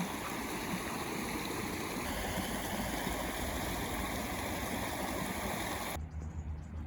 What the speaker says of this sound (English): Check out the river this morning, see how it's doing.